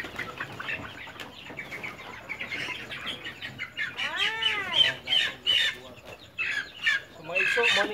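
Black Australorp chickens cluck and squawk in a farm area, a busy flock with overlapping calls and one rising-falling squawk near the middle, no speech over them.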